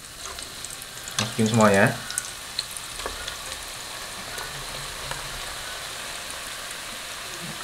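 Food deep frying in hot oil, a loud burst of sizzling as it goes in, then a steady crackling hiss under brief talk.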